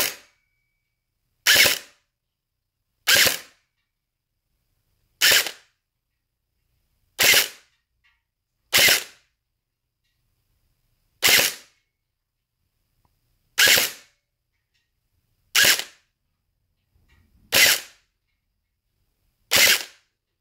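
Eleven sharp single shots from a gel blaster fitted with its standard spring, each a crisp snap spaced about two seconds apart in a quiet indoor setting, with no talking in between.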